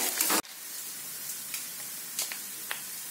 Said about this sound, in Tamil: நல்லா வறுத்துக்கலாம். அவ்வளவுதான். இது தாளிப்பு ரெடி ஆகட்டும்.